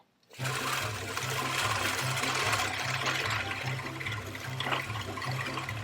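A cylinder reel mower with freshly backlapped blades runs steadily across grass, giving a dense continuous whirring and cutting rush with a faint rhythmic clatter underneath, close and unbroken for several seconds.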